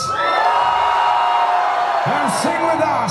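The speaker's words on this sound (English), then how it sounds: "Come on, give me some noise here in Moscow." Dense concert crowd at a show in Moscow's Volta Club cheering, whooping and screaming continuously, loud and close, with a few nearer yells and shouts rising above the roar toward the end.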